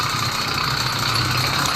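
A small stock piston-port engine fitted with a performance carburetor and reed valves runs steadily, giving a loud, buzzing, rapid-fire drone close up with no pauses.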